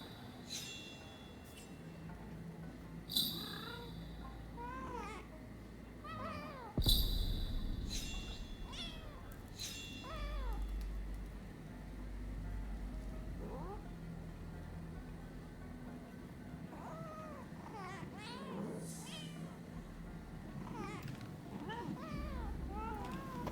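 Cats meowing in the video game Rise of Ronin, several short mewing calls scattered through the scene over a low ambient game background with occasional clinks and a thump.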